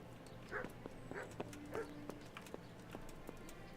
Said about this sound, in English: there's a dog outside.